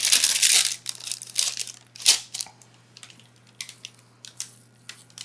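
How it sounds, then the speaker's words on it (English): Parchment paper crinkles and crumples up close as it is pressed into an 8x8 baking pan, in loud bursts at first and then scattered softer rustles, under a faint steady hum. "I'm gonna line it with parchment"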